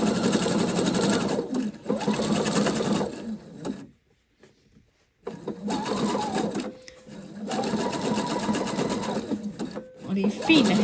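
Sewing machine with a presser foot fitted to a metal needle plate runs steadily while stitching fabric for a poncho, in long loud bursts with a short silent pause midway; a voice talks over it.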